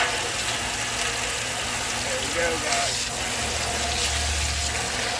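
Water from a hose gushing into a cattle trough, a steady rushing fill with a low motor hum underneath and someone speaking briefly over it.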